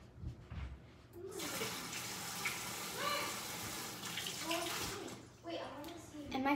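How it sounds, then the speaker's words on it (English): Tap water runs in a steady rush while hands are washed at a sink, starting after a moment and cutting off near the end. A voice speaks faintly nearby. "And now I need to wash my hands again."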